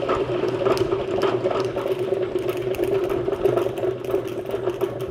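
Hand-cranked honey extractor spinning frames during a honey harvest, a continuous whirring mechanical rumble with a steady gear-like rattle, close and fairly loud with no talking.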